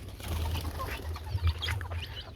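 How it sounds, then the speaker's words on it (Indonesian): Birds flutter and call around a rural Javanese village setting, with soft wing flaps and faint chirps over a steady low rumble of outdoor ambience. "banyak sekali burung-burung ya teman-teman."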